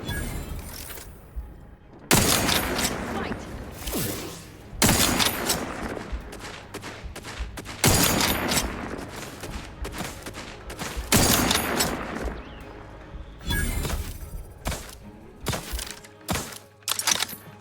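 Repeated bursts of gunfire from The Outer Worlds 2 on PS5, loud cracking volleys and rapid fusillades separated by brief lulls, with some shattering impacts mixed in.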